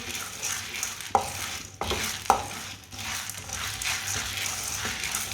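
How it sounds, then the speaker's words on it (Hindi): Dal lentils roast in a pan while a spoon keeps stirring them, giving a soft continuous dry sizzle with a few distinct scraping strokes and clicks of the spoon against the pan, close and without voices. "इसे भी चम्मच चलाते हुए भूनना, बिल्कुल चम्मच छोड़ना नहीं है"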